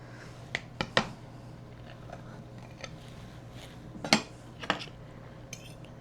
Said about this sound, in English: So we're just gonna take a little slice out here.